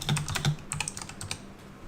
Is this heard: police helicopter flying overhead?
no